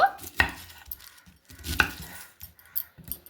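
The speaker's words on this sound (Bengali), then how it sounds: "এখন দুটো আমি পেঁয়াজ নিয়েছি, তো পেঁয়াজ দুটোকে কেটে নেব।" A knife strikes a cutting board as onions are cut, a few separate sharp chops at close range with quiet pauses between them.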